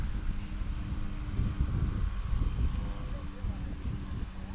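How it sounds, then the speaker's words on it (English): Wind gusting across a Wisconsin airfield during STOL competition practice, a low, steady rumble of microphone buffeting that swells and eases, fairly loud and close, with faint talk in the background. "we've got a bit more wind now. It's coming and going,"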